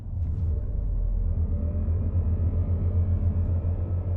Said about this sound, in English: Roaring Pulse is scary sounding.